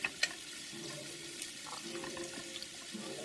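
Peppers and bulgur frying in a pan over medium heat, a steady soft sizzle with a couple of sharp clinks of stirring near the start and faint scraping throughout.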